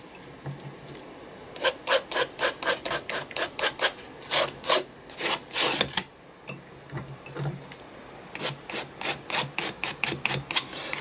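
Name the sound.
spatula scraping acrylic paint on an art journal page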